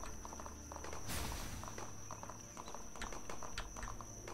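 A horse's hooves clip-clop in the open-world RPG Gedonia, a quick, fairly regular run of hoof knocks over a hissing, insect-like outdoor ambience, quiet and moderately near, with no talking.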